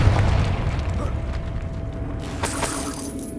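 A fire-blasting Confringo spell in Hogwarts Legacy erupts with a deep, rumbling boom that roars continuously across the clip, with a sharper crackling burst near the end.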